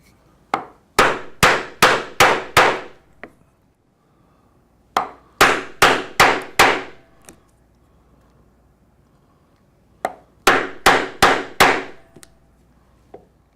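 A 3/4 inch oblong steel punch is hammered into leather in three bursts of about five sharp, loud, evenly spaced strikes each, separated by quiet pauses.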